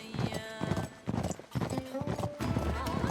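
Horse hooves clip-clop at a steady rhythm in Uncharted 3, a game set in a desert place, mixed with voices speaking and faint whinnies.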